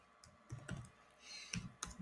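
Computer keyboard typing, a handful of irregular clicky keystrokes close up and fairly quiet, spaced unevenly over a couple of seconds.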